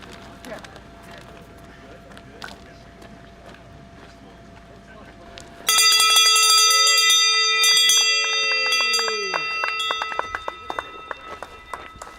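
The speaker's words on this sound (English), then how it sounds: "You love that bell, right?" A bell rings out sharply and keeps sounding with a long shimmering decay at a backyard ultramarathon world championship race, breaking in after several seconds of quiet outdoor ambience with scattered footsteps and a voice.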